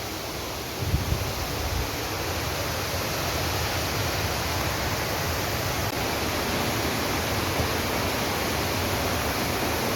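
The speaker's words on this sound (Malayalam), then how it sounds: "നല്ല അടിപൊളി വെള്ളച്ചാട്ടമാണ് സൂപ്പർ വെള്ളച്ചാട്ടം" A waterfall roars as a dense, steady wash of rushing water that fills the whole scene, loud and unbroken from start to finish.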